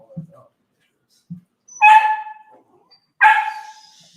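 A young dog gives two sharp, shrill, high-pitched barks about a second and a half apart, close and loud in a quiet kitchen, with a few soft low thumps before them.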